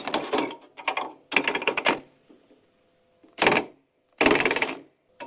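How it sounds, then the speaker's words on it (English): A Snap-On impact gun runs down a 36mm nut on the tinware of a classic air-cooled VW. Four sharp rattling bursts of hammering come up close, separated by brief silences. "I've got the snap-on gun to go on it"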